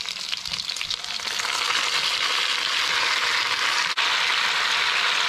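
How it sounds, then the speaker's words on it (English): Tomatoes and spring onions frying in ghee in a pan, a steady loud sizzle with crackling spatter, alone with no talking. "we'll just keep frying them in that ghee"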